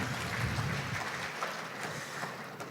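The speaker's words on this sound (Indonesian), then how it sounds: "Saya mohon tepuk tangan." Audience applause fills a hotel conference hall at the opening of an Indonesian digital library conference, a steady, soft wash of many hands clapping with no voices over it.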